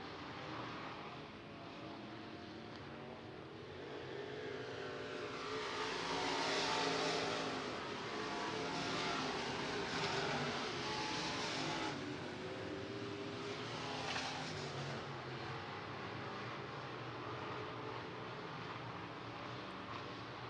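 SportMod race cars roaring around the dirt oval at Clay County Fair Speedway, engines swelling as the pack passes near and then droning on at a distance for the final laps.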